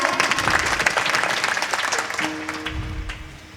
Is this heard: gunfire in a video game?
no